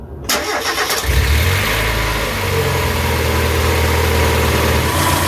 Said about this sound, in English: now we're just going to start the engine and we're going to run it until it gets warm